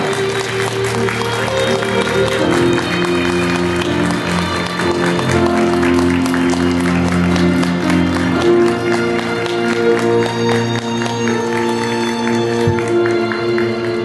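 Steady applause from wedding guests as the bride and groom enter hand in hand at a hotel hall ceremony, continuous and fairly loud, with music and muffled voices underneath.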